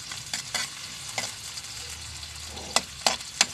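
Garlic and onion sauté in a hot pan for pancit, a steady frying hiss broken by sharp scraping stirs near the start and again toward the end, close and fairly loud with no talking.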